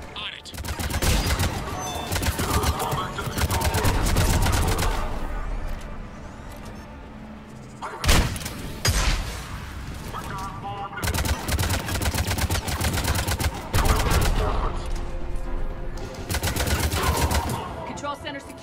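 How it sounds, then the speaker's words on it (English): Cannon fire in the video game Mass Effect 3 pounds out as heavy, repeated blasts over a dense, continuous battle din, with a short pause midway before the barrage resumes. "The cannon fire is clearing the way."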